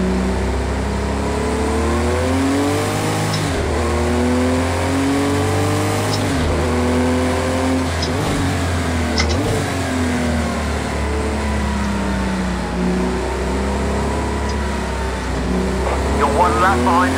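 Race car engine in the Project Cars 2 racing game, revving up and down through gear changes with heel-and-toe blips on downshifts, a steady loud drone with rising and falling pitch sweeps, while a person talks over it.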